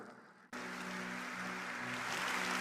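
Applause for Modi heard through a played recording, a sudden burst of crowd clapping that starts abruptly and holds as a dense, even wash, slightly distant and thin.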